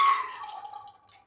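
Water splashing briefly into a pressure cooker holding soaked chickpeas, a short bright pour that quickly fades into a faint dribble, close and alone.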